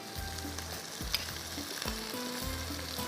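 Cumin seeds hit hot oil while making mixed vegetable pulao, setting off a loud, steady sizzle and crackle. It runs continuously and close, with a few stirring clatters and no voices.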